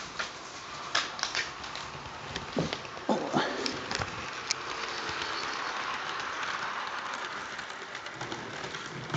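A model train rumbles steadily along its track, with scattered clicks and clacks over a constant running whir, fairly quiet and close.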